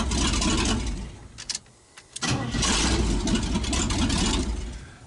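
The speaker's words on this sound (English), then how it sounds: "let's get this hooked up so we can at least crank it over" An old square-body 4x4 truck engine cranks with a rough churning, cuts out briefly, then catches and runs with a loud, steady idle rumble.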